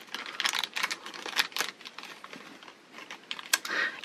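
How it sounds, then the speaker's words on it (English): Scissors snip into the plastic packaging of a Disney Animator's Collection mystery pin, giving a string of close, crisp cutting and crinkling sounds with short pauses between cuts. "let's just snip into that and see what we got."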